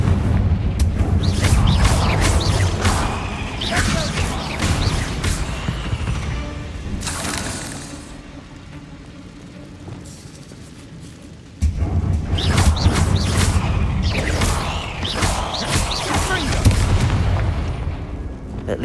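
Confringo spell blasts in the Hogwarts Legacy video game come as loud, dense crackling bursts of fiery explosions, with a quieter lull in the middle before another heavy barrage erupts, all without speech.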